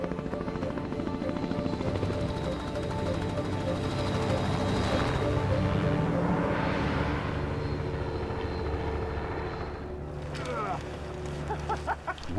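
A helicopter flying into an Arctic valley in July: a steady, droning rotor and engine noise that holds for most of the stretch, then shifts near the end.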